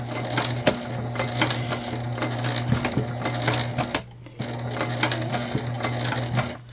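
A sewing machine stitches a tote bag in steady bursts, a loud close whirring hum with rapid needle ticking, pausing briefly midway before running again.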